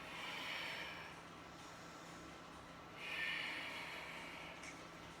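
Heavy breaths during a banded thigh workout at home, two long airy exhales a few seconds apart over a steady low background hiss, close and fairly faint.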